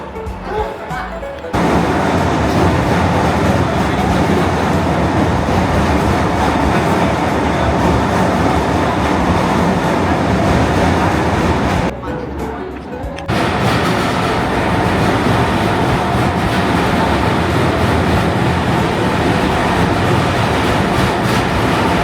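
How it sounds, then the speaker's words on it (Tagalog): Interior of a Tokyo train heading toward Asakusa: a steady, loud rumble of carriage and track noise fills the ride, broken by a brief quieter dip midway, with faint voices now and then. "Tagal ng train."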